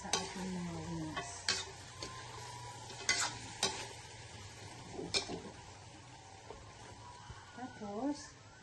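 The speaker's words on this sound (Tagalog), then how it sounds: "Mix na mabuti para yung sauce natin po is manuot talaga sa ating mga wings." Buffalo wings being stirred in a sweet and spicy sauce in a sizzling pan, with soft scraping and irregular clacks of the utensil over a low frying hiss and a brief voice near the end.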